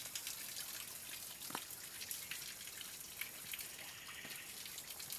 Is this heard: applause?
no